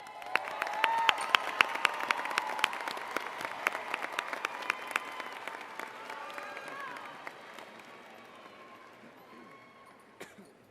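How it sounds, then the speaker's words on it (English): A graduation audience at a high school ceremony gives a long round of applause, dense clapping that is loud at first and slowly thins and fades toward the end. "please stand and give a round of applause to your family, friends, and support systems for all their help through the years."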